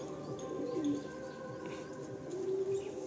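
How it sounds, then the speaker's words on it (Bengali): Male Madrasi tournament pigeons coo softly and repeatedly, low rolling calls overlapping against a steady background hum, with no talking. "এই দুটোই নর পায়রা"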